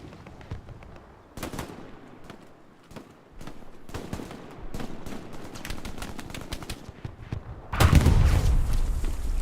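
Machine gun fire in Hell Let Loose on Omaha Beach, bursts of rapid shots and thuds scattered through the stretch, some distant and some close, ending in a louder, denser volley.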